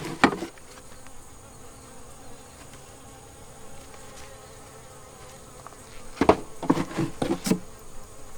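Honey bees buzz steadily around an open hive during a queen install, a dense insect drone throughout, with a few louder close passes and thumps near the end.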